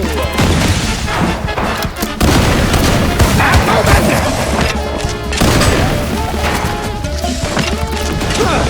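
Psycho bombs blasting in the video game MOUSE: P.I. for Hire, a rapid barrage of loud booms, crashes and smashes in quick succession, with a voice briefly shouting over the chaos.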